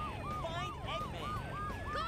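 Police sirens in the video game Sonic Adventure 2 wail in a steady repeating up-and-down cycle over a low rumbling game background, loud and continuous throughout.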